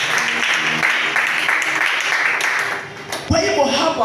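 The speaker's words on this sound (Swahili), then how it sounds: "Tupigie tena Yesu makofi." A church congregation applauds during a sermon with a sustained wash of clapping, and a voice breaks in toward the end as the clapping fades.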